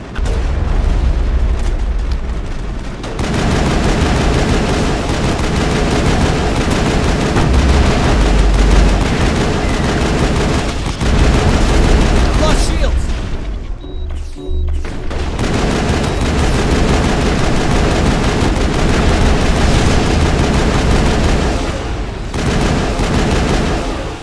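A heavy gun pounds away in a Mass Effect battle, a continuous roar of booming shots and explosions that briefly drops out twice before resuming loud and sustained.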